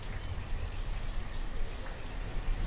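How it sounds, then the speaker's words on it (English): Rain pours steadily in the city-building game Banished, a dense, loud, even hiss with scattered droplet ticks and no talking. "Gets pretty loud when it's raining."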